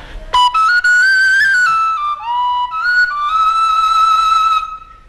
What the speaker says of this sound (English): this is a flute known as the penny whistle